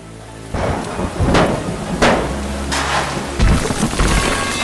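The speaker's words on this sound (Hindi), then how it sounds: "बारिश की बूंदें इस शांत निर्माण स्थल पर गिर रही हैं" Rain falls steadily on a quiet construction site, a broad hiss with low rumbling swells like distant thunder rising and fading every second or so, with no voices.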